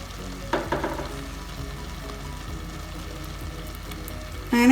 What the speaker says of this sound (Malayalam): ഇനി നമുക്കിതിലേക്ക് ശർക്കരപ്പാനി ഒന്ന് അരിച്ച് ചേർക്കാം